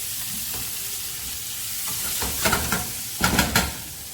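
Pork cooking down with garlic in a pan over moderate heat for Bicol Express, a steady low sizzle with scraping stirs that grow louder and more clattery toward the end, no voices.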